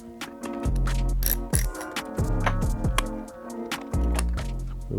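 A T25 Torx driver with a ratcheting handle works bolts loose on a 2024 Aprilia RS4 motorcycle, close-up bursts of quick clicking ratchet pawl strokes with short pauses between them.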